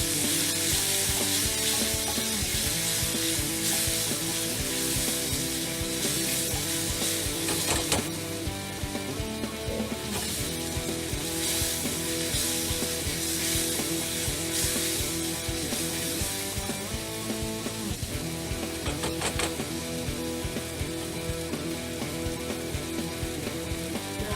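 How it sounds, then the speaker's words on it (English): Bacon, onions and garlic sizzle loudly in a hot pan while being stir-fried for egg fried rice, a dense continuous crackle with scraping stir strokes throughout. "You add the bacon first in because have a bit more of the meaty flavour"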